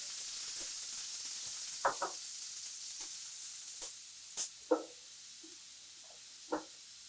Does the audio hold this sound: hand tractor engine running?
no